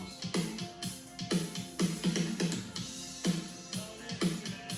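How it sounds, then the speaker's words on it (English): A drum track for a production of "Suspicious Minds" plays a steady, repeating beat of punchy kick and snare hits at moderate volume, with no vocals or talking. "So let's just listen to the drums."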